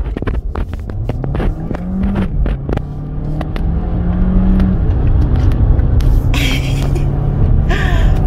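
A Jeep Renegade 4xe Trailhawk plug-in hybrid with 240 hp accelerates uphill in sport mode. The engine note climbs in steady sweeps, with drops at quick gear changes, heard continuously and fairly loud from inside the car.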